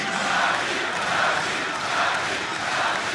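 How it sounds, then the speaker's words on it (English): A large arena crowd at a 2014 League of Legends All-Star esports match in Paris roars and cheers for the hometown Fnatic team, a dense sustained wall of shouting and chanting that swells in waves throughout. "you can hear the crowd"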